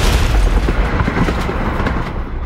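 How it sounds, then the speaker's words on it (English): A bomb explosion at the Kremlin, played as a cinematic trailer effect: a loud, deep, rumbling boom fills the clip and slowly trails off. "a bomb blew up the Kremlin."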